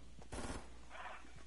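A short burst of rapid gunfire in a video game, a quick cluster of sharp shots near the start followed by a softer hiss, with no one talking.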